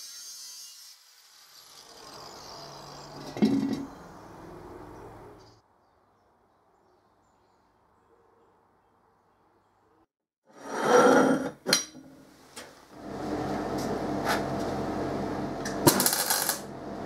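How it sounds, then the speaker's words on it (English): Power grinder cutting open an empty helium tank, harsh grinding bursts that stop and start with a long quiet gap between them, close and moderately loud. "Because helium is inert, it's safe to grind the tank open like this."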